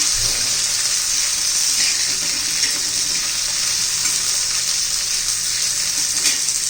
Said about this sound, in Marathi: छान असं मिरच्या पण आता परतून घेऊया.